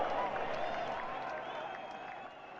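Crowd applause at a Keyforge tabletop game event, a dense wash of clapping that gradually thins out, with voices mixed in underneath.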